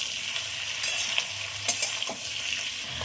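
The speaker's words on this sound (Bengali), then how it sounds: "ভাজার জন্য আবার খুব ভালোভাবে নেড়ে দেবো।" Mixed vegetables hiss in hot oil while being stirred, with a constant sizzle punctuated by several spatula taps and scrapes against the pan, close and moderately loud.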